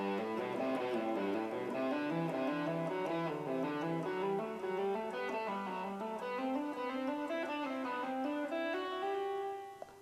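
An electric guitar plays a quick run of single notes, one after another at a steady clip, sustained and slightly driven, with no voice.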